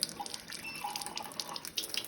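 Acidic water runs steadily from the port of a water ionizer, a soft continuous trickle and splash with faint dripping, close by and without talk.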